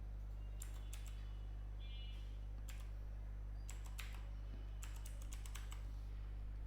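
Fingers type a username on a computer keyboard in short irregular bursts of quiet clicks over a steady low hum, with no talking.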